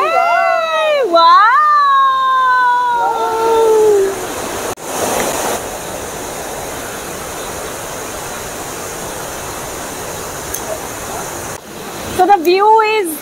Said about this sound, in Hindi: दिस इज द फॉल जिसे देखने के लिए हम आए